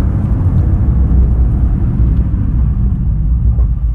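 Cabin sound of a VAZ 2113 at 120 km/h: a loud, steady low roar of engine, tires and wind with no talking.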